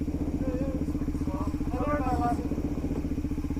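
A motorcycle engine rumbles steadily and close by, with a pulsing low throttle note that swells slightly mid-clip, while people talk over it.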